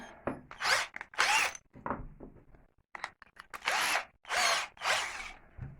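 A handheld power drill with a bit boring a hole from the top of a homemade DIY power supply, in repeated short bursts of whirring and grinding separated by brief pauses, close and fairly loud.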